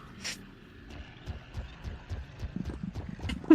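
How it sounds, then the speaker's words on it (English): Footsteps in the video game Cyberpunk 2077, a series of hollow, bouncy thuds on a hard surface that trot along at a steady clip-clop rhythm, growing denser and louder toward the end. "The sound of those footsteps on this material"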